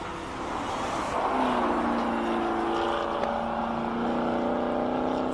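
A McLaren race car at speed on the Simola hillclimb course, its engine a loud sustained high-revving drone with rising and shifting tones as it passes, no talking.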